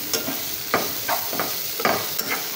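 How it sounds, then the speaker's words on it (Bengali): Bitter gourd fries in a pan, with a soft background sizzle broken by regular scraping stirs, about two per second, close and moderately loud. "এখানে করলা ভাজি করে নিচ্ছি"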